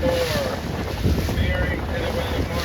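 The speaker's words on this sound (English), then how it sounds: "there's so much more wind out here" Strong wind buffets the microphone on open water at a C420 dinghy sailing regatta, a loud steady roar with gusting rumble and the wash of the boat through the waves.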